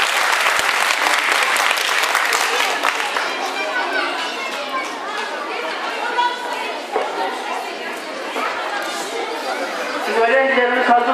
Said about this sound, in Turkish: Öğrencilerimize moral olması için kuvvetli bir alkış istiyoruz